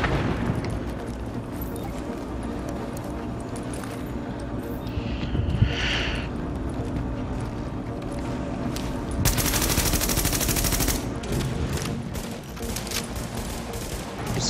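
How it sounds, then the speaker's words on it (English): Gunfire in The Division at the Hudson Refugee Camp, rapid automatic bursts and repeated shots mixed with loud combat noise, continuing throughout with voices heard at times. "Firing indiscriminately there."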